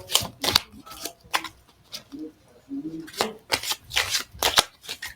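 Tarot cards are shuffled close up in quick papery riffles and flutters. The bursts come in clusters, with a brief low murmur of voice between them.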